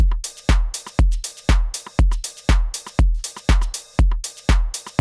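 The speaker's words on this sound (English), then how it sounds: "We got a rim for some percussion." House drum loop with a steady thumping kick, clap, and layered ticking hi-hats, plus short rim hits adding percussion between beats, loud and continuous without any voices.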